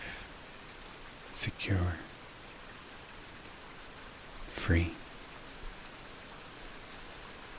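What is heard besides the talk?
rain falling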